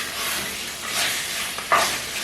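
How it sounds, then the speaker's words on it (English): Chicken frying in a pan for Jamaican-style fried chicken, a soft steady hiss of hot oil with a brief sharper crackle near the end. "I am going to let it fry a bit"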